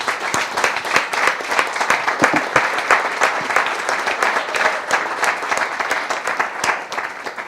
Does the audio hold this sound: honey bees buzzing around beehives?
no